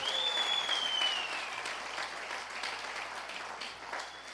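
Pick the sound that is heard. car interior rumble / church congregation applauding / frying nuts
church congregation applauding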